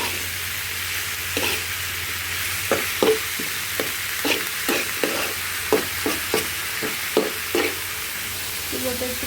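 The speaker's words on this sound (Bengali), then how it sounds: "এভাবে কিছুক্ষণ আমি নেড়ে চেড়ে ঢেকে দেবো" Bitter gourd bhaji is stirred in a pan over a soft sizzle, a spatula scraping and knocking in quick, irregular strokes close by.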